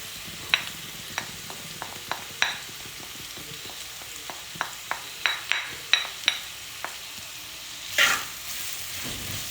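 Curry with onions being stirred and fried in a pan for an egg curry: a steady low sizzle with repeated sharp scrapes and clinks of a spoon at irregular intervals, close and alone with no talk.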